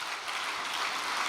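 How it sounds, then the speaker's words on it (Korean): A hall audience claps steadily in a continuous round of encouragement at a Korean religious gathering, dense and sustained throughout without any voices. "격려의 박수 한번 부탁드리겠습니다"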